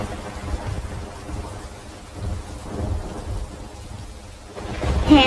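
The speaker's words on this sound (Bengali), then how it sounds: "এত বৃষ্টি নেমেছে" Heavy rain in a stormy scene, with a low rolling rumble of thunder and a dense wash of falling rain, swelling louder toward the end.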